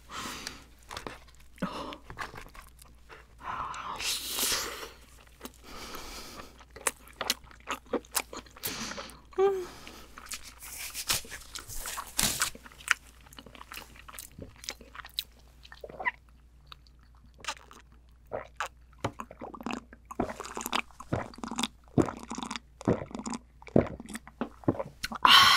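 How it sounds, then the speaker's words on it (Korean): Close, crisp chewing and biting sounds come from someone eating spicy king crab, abalone and red fishcake skewers in a seafood stew, with wet crunches and soft smacks repeating irregularly over a quiet background. "오늘 이렇게 킹크랩 어묵 해물찜을 먹어봤는데요."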